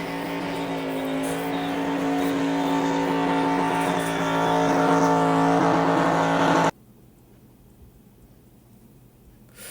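A race car at Charlotte revs hard through a burnout, a loud sustained engine roar with rising pitch that cuts off abruptly, leaving faint background noise afterward.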